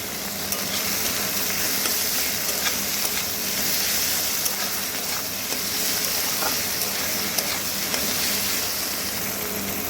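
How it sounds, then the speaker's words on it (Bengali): Onion, garlic and tomato fry in a pan with a loud, steady sizzle that continues without a break, close up, with faint stirring scrapes. "এর মধ্যে দিয়ে দিচ্ছি টমেটো টমেটোটা দিয়েও খুব ভালো করে একটু কষিয়ে নেব"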